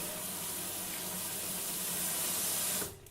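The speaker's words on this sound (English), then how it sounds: "we're going to rinse it under the tap quite well" Rice being rinsed under a running kitchen tap, a steady close gush of water splashing into a bowl or sink that cuts off abruptly near the end.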